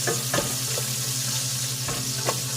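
Onions dropped into a frying pan with cooked pork for menudo, a loud continuous sizzle with a few soft knocks and stirring scrapes, close and steady, no voices.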